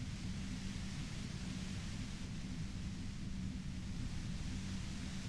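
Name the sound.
loud white noise static in Disco Elysium video game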